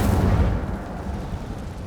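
A deep, heavy whoosh-boom of the Incendio fire spell in Hogwarts Legacy, loud at first and then fading into a low rumbling tail.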